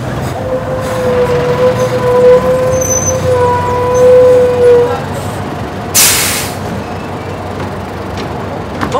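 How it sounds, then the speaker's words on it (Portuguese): A bus comes to a stop, a rumbling heavy-vehicle drone carrying a long, thin brake squeal, followed by a sudden short hiss of air brakes releasing. "Parou o ônibus."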